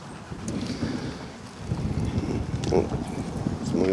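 Gusty wind buffets the microphone at an outdoor funeral gathering with many flags, in low rumbling bursts, rising and falling unevenly throughout.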